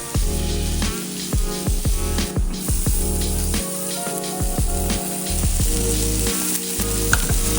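Marinated chicken wings sizzle on a BBQ grill with a loud, continuous crackle and hiss, joined by repeated sharp clicks and scrapes as the wings are turned. No one speaks.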